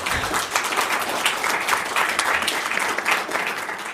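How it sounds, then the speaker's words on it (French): An audience at a management talk applauds with dense, sustained clapping from many hands filling the room, steady and fairly loud throughout. "Ouais, on peut applaudir ça, s'il vous plaît."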